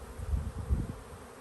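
Honey bees in a hive buzz in a low, close drone that pulses slightly over a brief moment, heard alone without speech.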